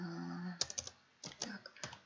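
Quiet keystrokes on a computer keyboard come in two short bursts of quick clicks as an email address is typed, following a brief low hum.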